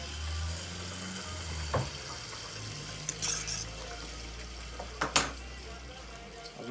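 Seasoned liquid bubbles in a pot for Jamaican fried chicken, a soft steady simmering hiss with a few light clinks of utensil against pot, quiet and close.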